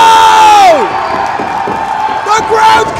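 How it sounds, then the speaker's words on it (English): At a live wrestling event, a crowd cheers, shouts and whoops loudly, with a slam and some clapping in the mix, while a commentator's voice runs over the noise. "The crowd's coming unglued."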